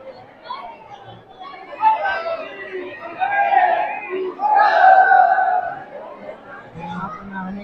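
Pilgrims crowd around Shyam Kund, the bathing well at Khatu Shyam temple. Their dense, overlapping chatter and calls rise and fall steadily, with raised voices near and far.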